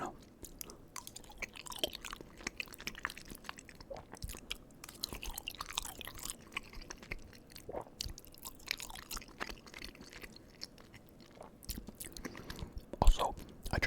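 Close-up eating of pasta in two flavors with a fork, soft wet chewing and occasional crunchy bites in a steady irregular rhythm, quiet and intimate with no talking.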